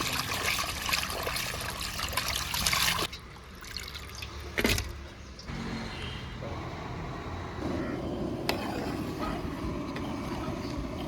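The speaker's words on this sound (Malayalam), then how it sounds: "നല്ല വൃത്തിയായിട്ട് കഴുകിയെടുക്കാം വെള്ളം കൂടെ അങ്ങോട്ട് ഒഴിച്ചു കൊടുക്കാം" Water is poured over sardines while they are scrubbed clean of scales, a steady splashing, trickling stream close up that stops and restarts, with a sharp knock partway through.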